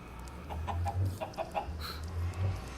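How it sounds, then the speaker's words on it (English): Minecraft chickens cluck in quick, clipped bursts, several overlapping birds at moderate volume over a low game background with no talking. "Why are there so many freaking chickens in here?"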